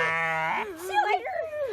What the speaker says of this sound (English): You can't even hear anything with these sheep.